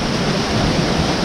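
Waterfall roaring from the top in Banff National Park near Lake Agnes, a loud steady broadband rush with no voices.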